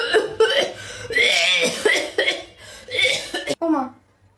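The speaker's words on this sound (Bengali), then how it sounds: "ওমা, কাশি হলো কিভাবে?" A person coughs repeatedly in harsh, rasping bursts of uneven rhythm, close and loud, with voiced straining between the coughs.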